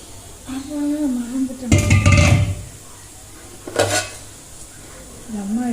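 Metal spoon clanks and scrapes against a pot while chicken is mixed with ginger-garlic paste, with two loud bursts of stirring and clinking separated by quieter stretches, and a voice speaking between them.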